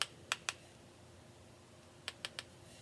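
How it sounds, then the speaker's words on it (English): An ink-loaded brush is lightly tapped against a bone folder during card stamping, giving two clusters of sharp close clicks: three quick taps near the start and three more near the end, with quiet room tone in between. "what I do is I hold my bone folder or a scissors, and you're just going to lightly tap."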